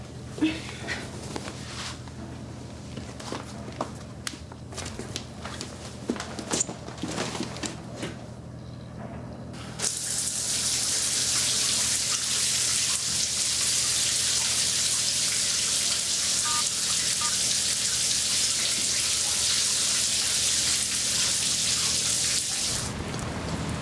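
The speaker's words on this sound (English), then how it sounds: "Quick shower, and I'm off." A shower bursts on after some quiet shuffling and handling noises, then pours a loud, steady hiss of running water for about fourteen seconds before it cuts off.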